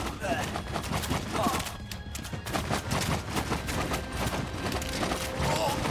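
Archers loose volleys in the Roman city-building strategy game Citadelum, a dense clatter of arrow and battle effects mixed with horse hooves and whinnies, steady and busy throughout, with a voice talking over the action.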